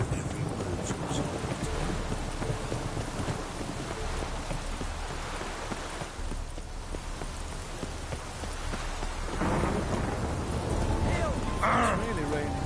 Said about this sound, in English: It's really raining now.